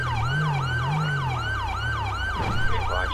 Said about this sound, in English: I really don't want to hear a siren the whole entire time.